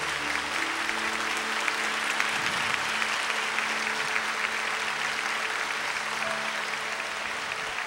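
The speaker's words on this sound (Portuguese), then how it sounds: "Vamos aplaudir para valer essa palavra." A church congregation claps enthusiastically after a Gospel reading at a Catholic mass, continuous dense applause filling the hall for several seconds over a faint organ-like hum.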